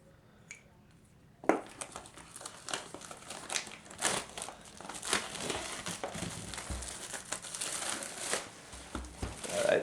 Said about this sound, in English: then we'll open up the plastic here